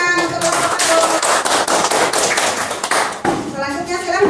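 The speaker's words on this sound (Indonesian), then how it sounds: "Tepuk tangan untuk kelompok" Applause from a classroom audience for a student presentation group, dense hand claps filling the room, with voices speaking over it near the end.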